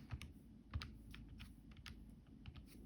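Quiet typing on a computer keyboard during a math lecture, a few scattered soft keystrokes with short irregular pauses, close and faint, without speech.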